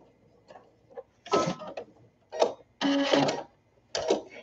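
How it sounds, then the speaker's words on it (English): Short bursts of a sewing machine stitching a seam on a baby sunsuit, several separate runs of rapid mechanical whirring with quiet pauses between them, close and fairly loud. "I want you to go ahead and sew this down"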